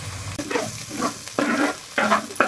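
Egg curry masala with coconut powder frying in a pan for a village-style tamarind egg pulusu, with bursts of scraping stirring and a steady sizzle, close and fairly loud, no talking.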